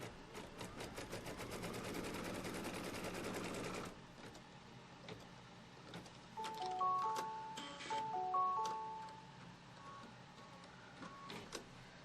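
Embroidery machine stitching a quilt block for a Kimberbell Quilting Through The Seasons project: a loud, fast steady needle chatter for about four seconds, then quieter intermittent whirring, clicks and short motor tones as the hoop moves.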